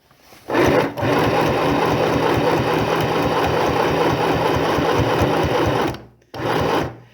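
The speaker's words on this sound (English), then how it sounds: "we're finishing the edge and sewing on the strap at the same time." An electric sewing machine stitches a strap onto the edge of a tote bag in a loud, steady mechanical whir that runs for several seconds, pauses abruptly, then resumes briefly.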